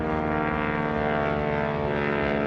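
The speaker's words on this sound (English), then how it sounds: "It's got a 450 horsepower Pratt & Whitney R985 engine" Propeller aircraft with a 450-horsepower Pratt & Whitney R985 radial engine drones steadily and loudly at an airshow, a continuous throbbing roar with strong engine harmonics throughout.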